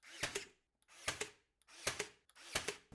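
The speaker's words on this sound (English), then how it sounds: "And I just recently got a brad nailer and I'm so excited about it." A brad nailer drives nails into trim during an Ikea built-in library build. Four sharp, close snapping shots fire at a steady pace, with brief quiet gaps between them.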